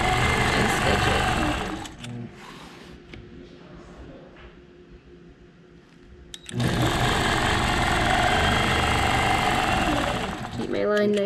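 A sewing machine stitches a memory quilt in a fast, steady mechanical whir, loud and close in two runs separated by a quieter pause of a few seconds.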